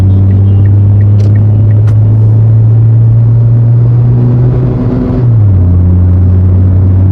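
A 2016 Kia Rio sedan cruises in second gear, its engine a loud, steady low drone from inside the cabin that dips briefly and settles at a lower pitch as revs change.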